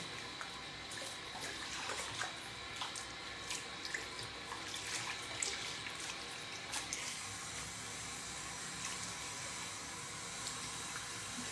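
Tap water runs steadily at a salon sink while hair is wetted before washing, a soft continuous splashing with faint drips, no talk over it.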